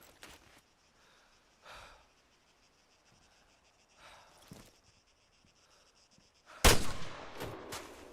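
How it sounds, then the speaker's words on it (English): A rifle fired downrange on a training range in Arma 3: after quiet stretches with faint rustles and breaths, a single sharp, loud shot rings out near the end and echoes away. "When you're ready, put some rounds downrange."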